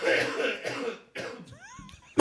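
Several coughs and throat-clearing sounds from a person, close and fairly loud, with short gaps between bursts and a brief voiced squeak near the end.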